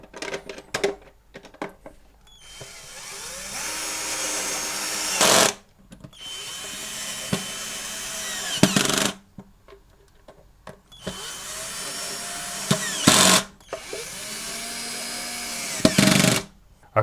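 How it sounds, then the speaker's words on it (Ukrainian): A power screwdriver drives four screws into the top lid of a homemade battery pack case, each a sustained whirring run of a few seconds ending in a sharp tightening burst, separated by short pauses. "Тепер встановлюємо верхню кришку корпусу і прикручуємо 4 гвинти."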